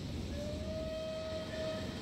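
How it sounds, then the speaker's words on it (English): A train whistle on the British India Line in Train Simulator sounds one steady, sustained tone for nearly two seconds over a constant low rumble of the train. "I quite like that whistle."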